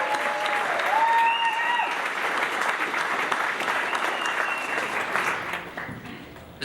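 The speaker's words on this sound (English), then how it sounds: "So if we could give a round of applause for Steph." Wedding guests break into sustained applause for Steph, the crowd clapping loudly and evenly before thinning out toward the end.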